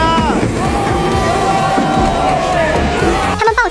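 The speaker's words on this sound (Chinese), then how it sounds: "当熟悉的迷彩出现时，全校欢呼。" A whole high-school crowd in flooded Guiguang, Guangxi cheers and yells as army flood rescuers arrive by boat, a dense, loud wash of voices and whoops sustained throughout.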